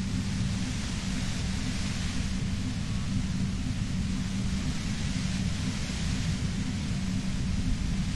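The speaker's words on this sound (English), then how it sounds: "You hear through the white noise." Steady, featureless white noise in the Disco Elysium video game, a constant low-heavy hiss that stays even throughout with no other sounds.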